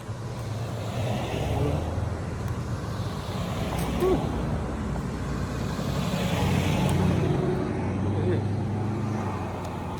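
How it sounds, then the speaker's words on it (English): Empty car left idling with nobody inside, a steady low engine rumble heard outdoors nearby, continuous throughout with faint ambient noise around it. "Oh, the car just running, nobody even in that car."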